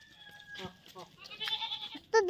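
Goats let loose outdoors bleat in short, scattered cries, a couple faint and one louder near the end, with a person talking quietly among them.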